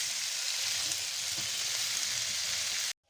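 Grilled chicken cooks in a pan with a steady, even sizzle, loud and close, that cuts off abruptly at the end, with no talking.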